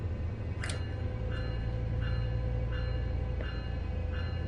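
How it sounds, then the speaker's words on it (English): A Metrolink train in a video game gives a continuous low rumble with faint, evenly spaced chime-like clicks recurring above it. "This train's pretty cool."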